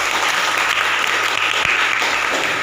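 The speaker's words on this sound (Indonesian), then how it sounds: "Tepuk tangan untuk mereka semua." A classroom audience applauds the presenting student groups, a loud, steady burst of clapping that holds at a constant level from start to finish.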